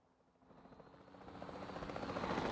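Helicopter in the dinosaur park game Jurassic World Evolution 2, its rotor chop fading in from quiet and swelling steadily louder as it approaches, heard alone.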